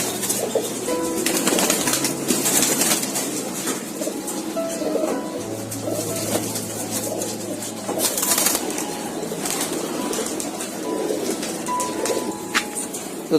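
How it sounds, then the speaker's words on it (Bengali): Giribaz pigeons kept as a hobby flock coo repeatedly in low, rolling calls, with bursts of wing flapping breaking in now and then; the flock sounds close and fairly loud, with no speech. "এখানে যে কবুতরগুলো দেখতে পাচ্ছেন দর্শক সবই গ্রিবাস কবুতর"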